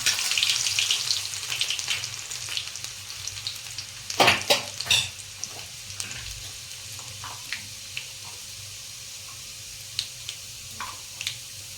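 Cumin seeds and chopped garlic dropped into hot oil, starting with a loud hissing sizzle that fades to a softer crackle, with a clattering stir midway and scattered clicks of utensils, close and without talk.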